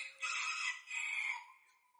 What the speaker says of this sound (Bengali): এটা মোরগ, এটা মুরগি, এগুলোরই বেবি ওইগুলো।